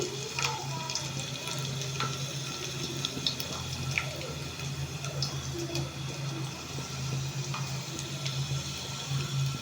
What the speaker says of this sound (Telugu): ఎండుమిర్చి కూడా సగంలో కట్ చేసి ఒక రెండు ఎండుమిర్చి వేసుకోవాలి ఇది కొంచెం కాలాలి చూసారా కాలుతుంది